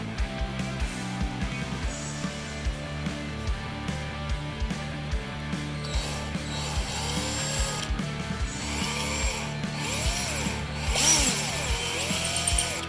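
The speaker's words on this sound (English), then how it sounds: "So by drilling that, we will try to remove as much of the weak spot as possible." A power drill bores into a crack end in a stainless steel exhaust manifold from a 3800 V6, a steady whining drone with short pauses and repeated bursts, the pitch shifting as the bit bites into the hard metal.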